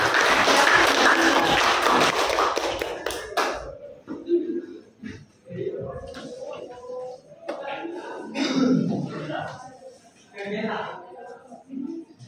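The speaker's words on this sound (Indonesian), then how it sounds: "Tepuk tangan untuk kelompok kami." A classroom audience gives a few seconds of lively clapping for a presenting group during a teacher-training performance test, after which a voice talks over a quiet room.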